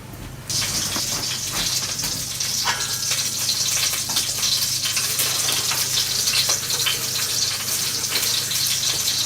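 After a short pause, a steady, hissing gush of hot water pours continuously, loud and close, with a faint low hum beneath.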